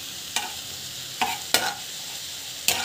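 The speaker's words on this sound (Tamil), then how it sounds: "ஜஸ்ட் வந்து இப்படி மிக்ஸ் பண்ணிகிட்டே இருங்க" A spoon stirs a mixture in a pan for a simple home recipe, giving four short scraping strokes at uneven intervals over a soft steady sizzle, close and clear.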